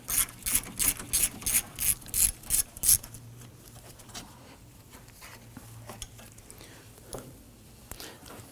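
A ratchet loosens a 10mm bolt on the AC condenser during radiator work on a 2015-2024 Nissan Murano 3.5L V6, giving about ten quick, crisp clicking bursts close by before falling quiet to faint handling sounds.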